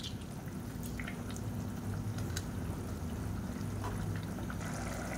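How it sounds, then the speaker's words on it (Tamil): Lemon juice trickles and drips into a pot of brinji rice above a constant, fairly loud bubbling and simmering bed. No one speaks. "இப்போ இதில் ஒரு 1/2 மூடி எலுமிச்சம்பழம் ஜூஸ் பிடிச்சி விட்டுக்கலாம்."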